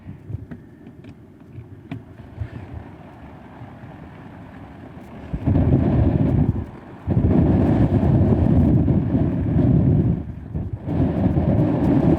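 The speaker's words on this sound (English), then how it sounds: "But it's so windy, it's hard for you to hear me out there." Strong hurricane wind buffeting the microphone outdoors on a flooded highway during Hurricane Beryl, a loud, continuous roaring rumble that surges sharply and stays heavy with brief dips, no voices.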